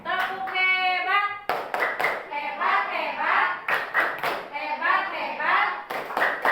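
Indonesian classroom of children performing a rhythmic clapped cheer, crisp bursts of hand claps in patterned groups alternating with children's chanting voices and a teacher speaking, close and lively.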